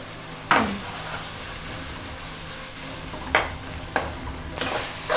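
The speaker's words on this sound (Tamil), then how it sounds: "இப்போ இஞ்சி பூண்டு பேஸ்ட் சேர்த்துக்கிறேன்" Ginger garlic paste fries in a pan with tomato and brinjal, a continuous sizzle broken by four sharp scraping strokes of a spoon against the pan, close and fairly loud.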